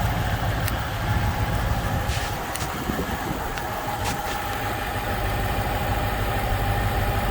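A car engine idles roughly and struggles after a Jeep JLT Series 2 install, a steady close low rumble with uneven vibration throughout, no talking.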